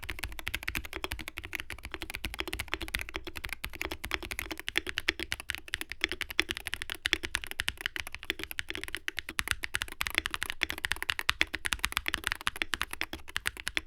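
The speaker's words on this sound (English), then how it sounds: "Here it is with the stock L60 V2 switches versus the Jades with the tape mod" Rapid, steady keystrokes on a Wooting 80HE keyboard fitted with Jade switches and a tape mod, a dense stream of close, crisp clacks running without pause and with no voices.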